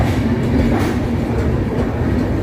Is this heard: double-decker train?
yes